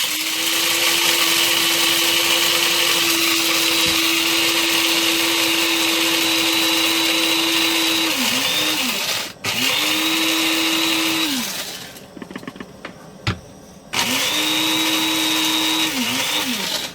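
A loud electric coffee grinder whirs steadily through a load of coffee beans, winding down briefly twice and restarting, with a short gap of rattling between runs.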